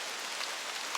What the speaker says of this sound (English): there is nothing like being sheltered from these Hawaiian rains by this enchanting tropical